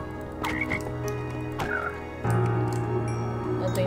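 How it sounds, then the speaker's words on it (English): Frogs in the video game Minecraft croak in a few loud, gulping bursts over a steady ambient hum from a jungle area of the game world, with no talk. "I just found frogs."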